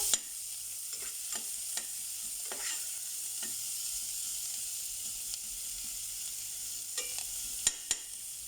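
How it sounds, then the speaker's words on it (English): Butter sizzles steadily in a pan with a constant hiss, broken by occasional sharp crackles and pops. "We're going to let this fry up."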